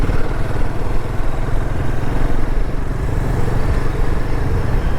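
Motorcycle riding along a road between Murudeshwar and Mangalore, a steady continuous engine drone with road rumble throughout, close and fairly loud with no talking.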